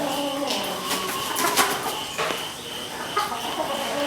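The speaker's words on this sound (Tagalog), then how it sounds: "sobrang gagandang manok" Several prized chickens cluck and chatter in a busy farmyard flock, overlapping calls close by with scattered sharper notes over a constant background of bird noise.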